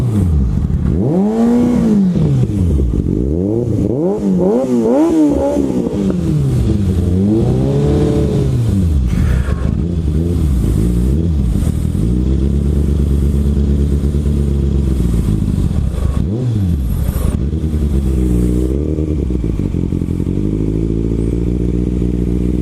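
Kawasaki ZX6R sport motorcycle on a test ride, its engine loud and close, revving up and down repeatedly through rising and falling gear pulls with steady road rumble underneath.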